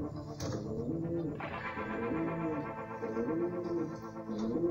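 Pigeon cooing in the evening, soft repeated rolling coos close by at low volume, with a brief rustle and a few faint background sounds between them.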